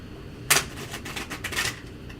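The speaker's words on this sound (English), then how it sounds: "I need a place to shuffle" Tarot cards being shuffled by hand, a quick burst of riffling followed by a run of soft, papery flicks and slides at close range, with no voices over it.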